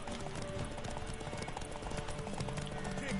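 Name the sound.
horse hooves clip-clopping in Witcher 3 video game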